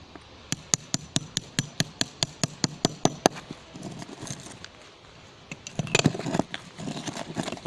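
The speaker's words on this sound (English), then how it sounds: "Some of these are hard set concrete and you'll need to hammer it" A hammer strikes hard-set concrete stuck to salvaged house bricks, a rapid run of about twenty sharp, close knocks at a steady beat, then a pause and a few scraping, clattering blows as the concrete breaks away.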